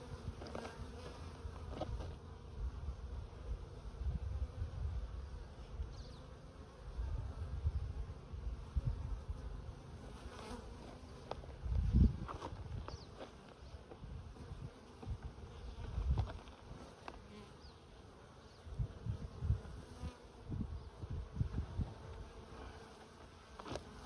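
Agitated honeybees buzzing close around an opened hive during a check, a continuous insect drone that swells and dips with scattered louder passes near the microphone and occasional scraping knocks.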